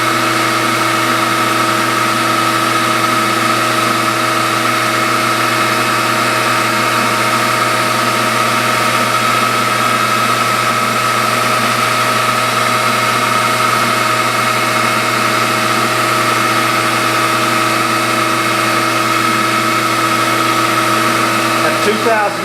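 A machine tool cutting metal at 2,000 RPM while machining a spool valve engine part, a loud steady whine with constant tonal hum that runs unbroken for over twenty seconds, close to the microphone.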